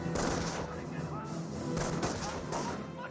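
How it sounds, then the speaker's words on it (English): Rifle and MG42 machine-gun fire from a Company of Heroes 1 battle between US and Wehrmacht forces, a dense, continuous clatter of shots and bursts mixed with game ambience, with faint voices in the background. "And now here comes the first fire of the game. Rifleman gets the first shot off."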